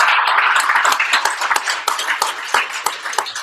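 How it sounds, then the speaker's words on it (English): A meetup audience breaks into a loud, dense round of applause, many hands clapping close together in a continuous crackle for a few seconds with no talking. "I'm going to say that a nice loud round of applause."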